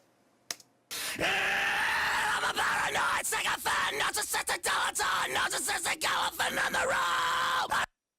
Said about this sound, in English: And this is Decapitated. This is so cool for screams.